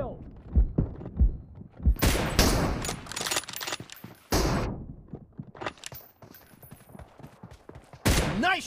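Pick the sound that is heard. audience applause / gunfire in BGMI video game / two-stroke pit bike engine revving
gunfire in BGMI video game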